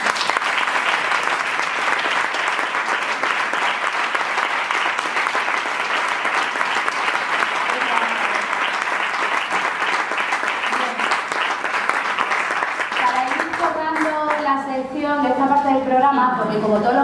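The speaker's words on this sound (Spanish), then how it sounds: "pues yo, como compañera y como mi amiga, pues quiero dedicarle un aplauso" Studio audience applause on a Spanish university television morning show, sustained and dense clapping that runs throughout and fades as talk and music begin near the end.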